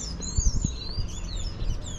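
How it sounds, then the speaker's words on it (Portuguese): Small birds chirp high and thin in the hills, several overlapping calls over about two seconds against a low rumble of background noise. "Como tem passarinho."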